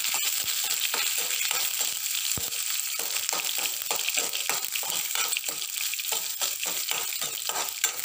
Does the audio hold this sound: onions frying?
yes